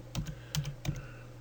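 Quick typing on a computer keyboard: three short clusters of clicky keystrokes in about a second and a half, close and fairly quiet, with no talk.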